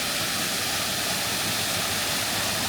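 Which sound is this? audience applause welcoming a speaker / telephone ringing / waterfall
waterfall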